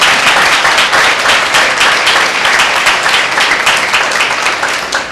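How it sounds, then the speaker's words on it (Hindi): A church congregation at a Sunday meeting claps loudly and continuously, a thick, even wash of many hands with no voices over it. "क्या हम जोरदार ताली दे सकते हैं?"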